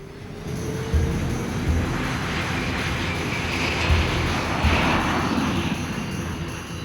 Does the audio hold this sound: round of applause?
no